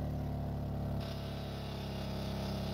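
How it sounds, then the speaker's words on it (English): A portable generator powering an RV rooftop air conditioner runs with a steady, loud engine drone, its pitch and load shifting slightly partway through as it revs up a little; no voices are heard. "And the generator is running."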